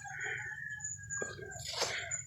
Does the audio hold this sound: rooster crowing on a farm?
yes